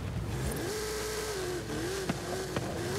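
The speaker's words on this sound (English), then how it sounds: "you can hear my engine when it revs crazy like that" A racing car's engine in the Forza Horizon video game revs high and wavers while the tires spin, a continuous loud buzzing drone with a couple of sharp clicks near the end, no voices.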